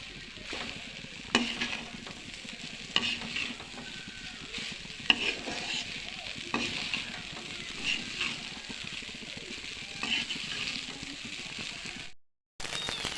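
Leftover rice is stir-fried with cabbage and egg in a wok, making a soft, steady sizzle broken by repeated scraping and tossing strokes at a moderate distance, with no clear talking.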